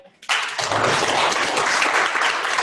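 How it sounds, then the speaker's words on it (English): An audience claps for a speaker after a lightning talk, a dense wash of applause that starts abruptly and stays full and even from start to finish. "Let's have some claps for Becca."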